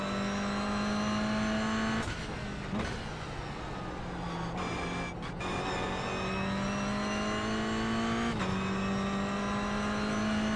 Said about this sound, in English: I am shredding these BF Goodrich tires on this GR86 car